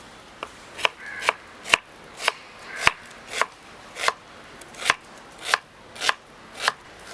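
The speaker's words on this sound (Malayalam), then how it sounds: "നമ്മൾ സബോള എടുത്തിട്ട് ചെറുതാക്കി കട്ട് ചെയ്യാണ്" A knife chops an onion on a cutting board: sharp, evenly spaced taps, roughly two per second, close and clear over a quiet kitchen background with no talking.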